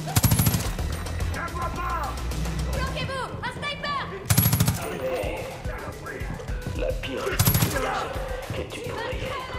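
Sniper gunfire in the video game Far Cry 5 comes as three loud, close bursts of rapid shots spaced a few seconds apart, with game voices and effects in between.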